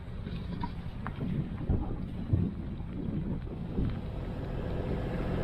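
Steady, rumbling wind gusting around 23 knots buffets the microphone aboard an anchored boat, with gusty surges, a low continuous roar and no voices.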